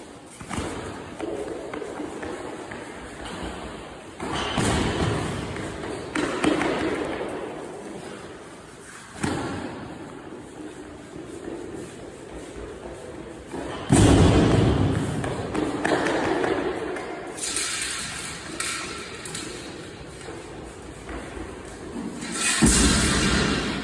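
A strongman hauls a 320 kg super yoke, heavy thuds and pounding footsteps landing in irregular bursts over a noisy gym floor, with loud impacts near the middle and end.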